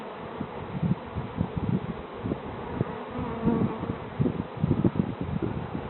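Honeybees from a nearby apiary buzz close by in a continuous, wavering drone, rising and falling as they fly around during swarming.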